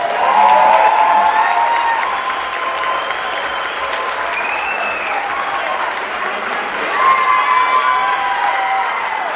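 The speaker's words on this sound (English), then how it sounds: "Give them a round of applause." A comedy club crowd in upstate New York applauds and cheers loudly for veterans, with whoops and shouts riding over dense, sustained clapping that swells again near the end.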